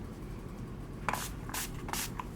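Makeup setting spray misted from a pump bottle in three short, close hissing bursts, each lasting a fraction of a second, over a quiet room background.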